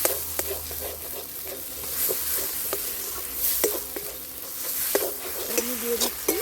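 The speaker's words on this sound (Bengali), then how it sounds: "আমি দিয়ে দিচ্ছি মশলার উপরে মাংসটা।" Duck meat sizzles in hot oil over spices, including a pinch of Kashmiri methi, with a steady, fairly loud frying hiss broken by scraping and stirring clicks from a spoon in the pan.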